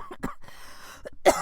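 A person with Covid coughs in a few short, close, harsh bursts, with a louder final cough.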